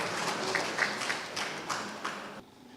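Audience applause at a community information centre gathering, a brief burst of many hands clapping, dense and fairly close, fading out after a couple of seconds.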